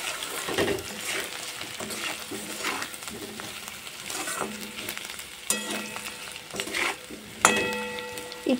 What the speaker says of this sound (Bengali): আদাটা একটু ভালো করে ভাজা ভাজা হয়ে যাবে।